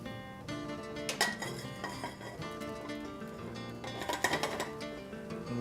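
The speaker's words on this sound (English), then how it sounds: "It starts by sauteing some shiitake mushrooms. A little bit of sesame oil." Shiitake mushrooms sauteing in sesame oil in a pan, with continuous clinks and scrapes of utensils against the cookware over a soft sizzle, close and moderately loud, with no talking.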